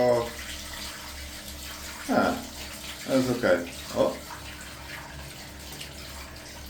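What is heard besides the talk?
water poured onto shower floor, draining test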